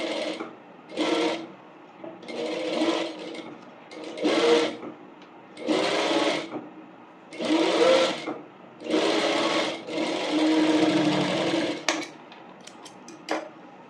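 A sewing machine stitches two fabric pieces together along a curve for a bonnet, running in about nine short, clear bursts with brief pauses between them, close by and alone.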